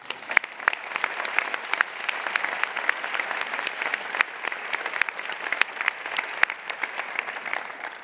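Steady, dense applause from a large audience at a university opening convocation, crisp individual claps blending into a continuous wash that holds evenly for the whole stretch with no talk over it.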